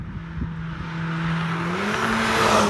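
A 2017 Volkswagen Golf R fitted with an aftermarket intake accelerates from inside the car, its engine note climbing steadily and swelling louder over a couple of seconds, with no talking.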